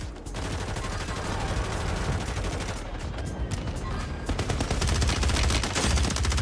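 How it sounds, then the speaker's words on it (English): Rapid gunfire rattles almost without pause in a ranked multiplayer shooter video game, dense and steady, with faint voices underneath. "Stop shooting at me."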